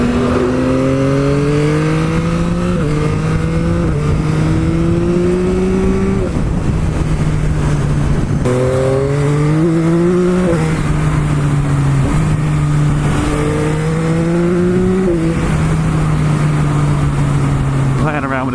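A 2021 Yamaha MT-09 SP engine revs repeatedly while riding, pitch climbing through each gear then dropping at shifts, loud and steady against wind noise with a voice talking over it.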